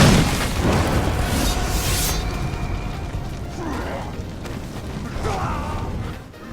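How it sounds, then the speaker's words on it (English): A grog burner blasts a fighter in the face during a brutal video game melee, a loud booming explosion at the start followed by rumbling, creaking battle noise with faint voices underneath. "gets tackled to the floor and gets his face exploded by the grog burner"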